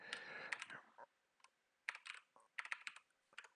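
Quick bursts of close, crisp key clicks from a computer keyboard, typed in irregular clusters with brief pauses between them.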